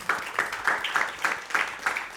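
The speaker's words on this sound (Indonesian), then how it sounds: "Aplaus lagi." An audience at a school literacy visit to the East Java provincial council gives a brief round of rhythmic, fairly close clapping, steady bursts repeating for a couple of seconds with no talk over it.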